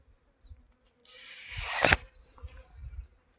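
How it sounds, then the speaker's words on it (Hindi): A honeybee swarm being caught by hand, its buzzing starting faintly, then building to a loud, dense drone with a sharp close burst before settling back into scattered buzzing. "मधुमक्खी मैंने पकड़ ली, अब इसको लेके जाना पड़ेगा"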